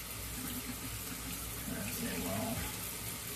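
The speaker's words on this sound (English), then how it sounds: "Wash out the converter. You want to do this with warm water." Warm water runs from a tap to rinse out a fountain pen converter, a steady splashing hiss with a brief swell of gushing midway, while a voice speaks briefly.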